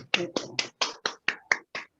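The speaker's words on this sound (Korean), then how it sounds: "최한용 박사님 뜨거운 박수로 말씀을 청해 듣도록 하겠습니다. 박수" Applause at a forum on local self-governance, heard as about eight sharp, evenly spaced claps close by, each ending quickly, like a small group clapping in unison.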